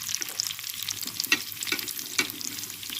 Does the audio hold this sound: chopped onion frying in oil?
yes